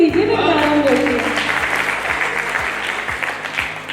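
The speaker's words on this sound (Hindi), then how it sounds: "एक बार तालियों से मुझे अनुमति दीजिए" An audience at a Hindi poetry recital by poet Dr. Bhuvan Mohini breaks into loud, sustained applause that fades slightly over several seconds, with a low hum and murmur beneath.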